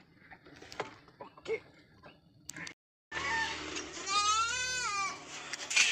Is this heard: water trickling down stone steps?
no